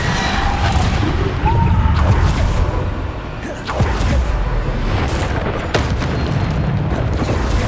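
Spell explosions from Bombarda cast in the video game Hogwarts Legacy, several booming bursts over a steady game soundscape with music, loud and close.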